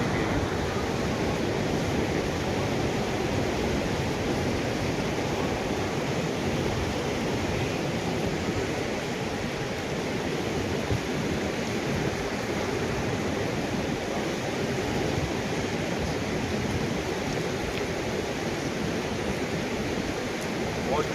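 Cold mountain water slides over rocks on a Himalayan trail near Gaumukh, a steady broadband rush that holds constant and close throughout with no voices.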